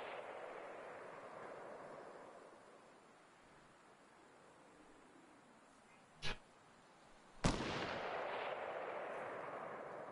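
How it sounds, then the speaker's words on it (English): Video game gunfire: two sharp, loud shots land about a second apart after a stretch of quiet ambient rumble, the second followed by a lingering wash of noise. "Hope that guy's not shooting at me."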